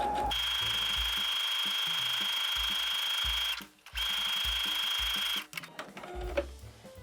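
A sewing machine runs in steady bursts, stitching a zipper tape onto a small fabric pouch for holding underwear. The close, continuous whir stops briefly twice for short pauses, and the machine then restarts for a few quick stitches near the end.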